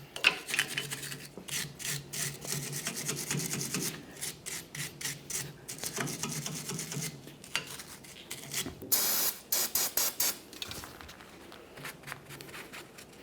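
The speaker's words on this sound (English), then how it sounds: "Use a wire brush for this" A wire brush scrubs dirt and debris from around the brake flex hose on a 1999-2006 Chevrolet Silverado 1500, a close, loud raspy scraping in uneven bursts of quick strokes, with no talking.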